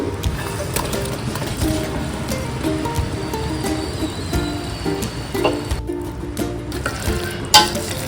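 Fried brinjals going into curry gravy in a pan, producing a continuous close sizzle and bubbling with stirring scrapes and occasional clinks of a utensil.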